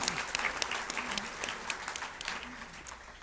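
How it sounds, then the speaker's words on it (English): Audience at a county parks 50th anniversary celebration claps in a scattered, moderate round, with a few louder individual claps standing out and faint voices in the background. "All right, well, we're going to clap anyway."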